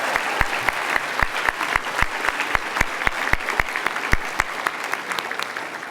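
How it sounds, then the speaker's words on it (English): The audience at a university convocation ceremony applauds, a dense, sustained wash of many hands clapping, loud and even throughout with a few sharper individual claps standing out. "Please give Dr. Crosley a round of applause."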